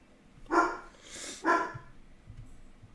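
A dog barks twice, close and fairly loud, with a pause of about a second between barks, followed by faint quieter sounds.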